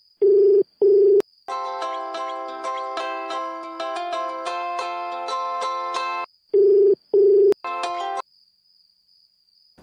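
An incoming call sets off a mobile phone ringtone: a loud, steady melodic tune framed by pairs of sharp electronic beeps before and after, with no talking over it.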